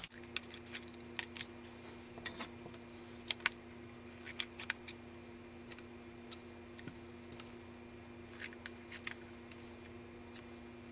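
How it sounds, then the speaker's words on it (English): Scissors snipping through a cardstock sticker sheet, a series of quiet crisp cuts in small clusters over a faint steady room hum. "So I think what I'm going to do is cut that apart."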